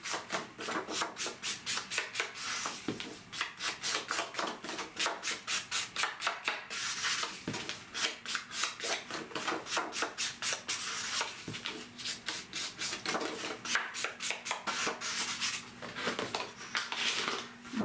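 Ink is applied to paper for a scrapbooking page in rapid, steady rubbing and dabbing strokes, each a short scratchy swipe, repeating close to the microphone for the whole stretch with no talking.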